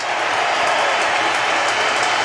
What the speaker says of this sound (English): receiving the applause of the whole stadium